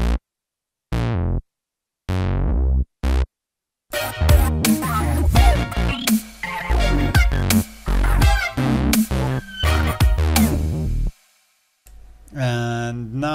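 A synth bass with no effect plugin: several sharp plucked notes with gaps, then a busy stretch of dense pulsing notes, then a short final phrase, loud and alone.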